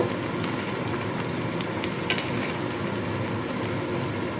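Steady sizzle and scraping from a pan of restaurant-style shahi chicken korma as a generous amount of sour yogurt is stirred in, a constant close, dense cooking noise with a small clink near the middle.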